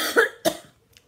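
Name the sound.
coughing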